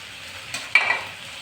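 Masala paste of ginger, onion and garlic frying in oil, a brief stir followed by a short burst of sizzling that rises sharply, then settles into a soft, close hiss.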